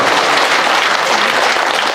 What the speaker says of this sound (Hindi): ताली तो बढ़िया ताली बाजिया